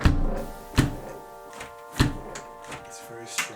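A front door fitted with a security lock thuds repeatedly against the lock under test, four or five heavy knocks at irregular intervals, close and solid.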